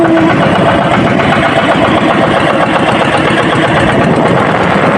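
A fishing boat engine chugs steadily and loudly up close at sea off Casiguran, Aurora, Philippines, a continuous throbbing drone with no pauses.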